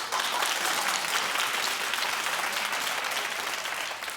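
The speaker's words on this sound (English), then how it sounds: "clap if he looks crackish" A studio audience at a talk show bursts into sustained, dense clapping that stays loud and even from start to finish, tapering slightly at the very end.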